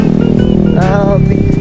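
A motorcycle rides slowly along a rough mountain dirt road in Minalabac, Camarines Sur, its engine droning loud and close with a brief rising rev in the middle.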